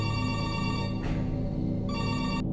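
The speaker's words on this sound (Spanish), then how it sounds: "De pronto sonó el teléfono de recepción por segunda vez." A reception desk telephone rings with a bright electronic trill in two bursts separated by a short gap, close and clear over a low steady background hum, with no voices.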